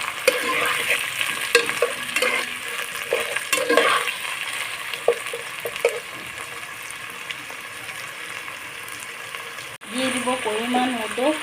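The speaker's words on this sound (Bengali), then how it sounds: "আলুগুলো আমি লাল লাল করে ভেজে নেব" Potatoes fry in a pan for banana-flower ghonto, with a close, continuous sizzle broken by repeated stirring scrapes and utensil knocks; a faint voice-like sound rises near the end.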